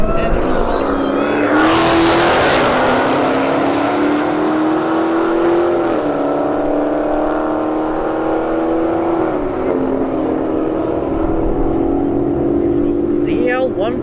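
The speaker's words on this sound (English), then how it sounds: "got a ZL1 Camaro in the right lane. Hellcat Challenger here in the left lane" A ZL1 Camaro and a Hellcat Challenger launch side by side down a drag strip, engines screaming and climbing through gear shifts as they pull away, loud and close, with an announcer talking over the roar.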